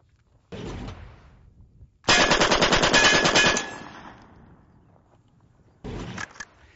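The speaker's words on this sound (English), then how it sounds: "Now I'm going to try 15 rounds in full auto on this steel at 10 yards" Full-auto gunfire aimed at a steel target about 10 yards away: a sustained burst of rapid, loud shots with ringing impacts, framed by two shorter bursts before and after, no talking.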